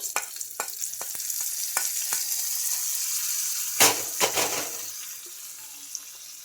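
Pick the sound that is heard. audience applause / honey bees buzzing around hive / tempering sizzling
tempering sizzling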